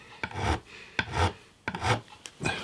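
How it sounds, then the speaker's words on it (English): A file rasps over the fret ends of a guitar fretboard, easing off burrs with four or five short, close strokes in an uneven rhythm and no talking. "file here, which has got a smooth edge on each side there, just to take off any burrs that I've got on the ends of these frets"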